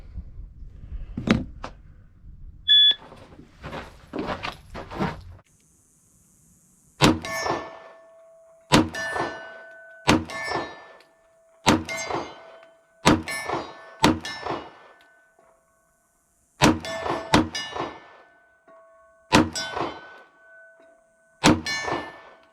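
A shot-timer beep, then about ten sharp handgun shots at a steady pace, each followed by a bright ringing clang from steel targets struck at 40 yards on an outdoor range.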